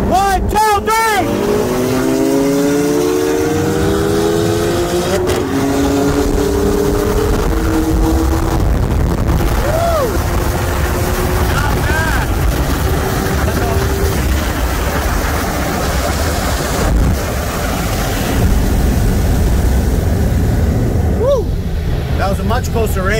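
C7 Corvette Z06 and BMW M2 Competition, both with bolt-on modifications, roaring side by side in a roll race from 60 mph, loud engines climbing through rising gear pulls with shifts, wind and road noise throughout.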